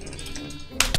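Sheep bleating in a video game, a short close cry sounded once with a sharper burst near the end.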